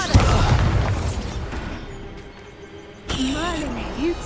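A Confringo spell blast goes off in Hogwarts Legacy: a loud booming burst at the start that decays into a rumbling tail, followed by a second, smaller impact with a short rising whoosh and tonal effects near the end.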